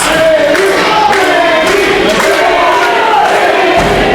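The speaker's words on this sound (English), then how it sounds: "this kind of roar, this kind of organic crowd support, this kind of rumble only comes for those miracle on ice situations" A wrestling crowd at the UWA Elite Brawl For It All 2016 event roars steadily in support, a loud, dense rumble of cheering and shouting voices that holds without a break, with a commentator's voice faintly mixed in.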